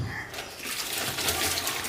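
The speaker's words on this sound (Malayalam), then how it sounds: "അപ്പം നമ്മൾ കഴുകിയെടുക്കാം വെള്ളം ഒഴിച്ചിട്ട്." Water poured over freshly picked vayana leaves as they are washed by hand, a steady close splashing and trickling that runs throughout with no talk.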